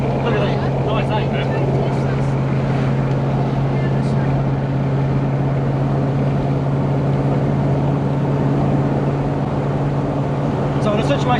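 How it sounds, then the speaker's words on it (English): A 2007 Toyota Hilux Vigo 4x4 with a swapped 3UZ V8 and manual gearbox drones steadily from inside the cab as it pulls in top gear at low revs, a continuous even hum under people talking. "if you want to pull up it in top gear, it'll pull up in top gear just fine"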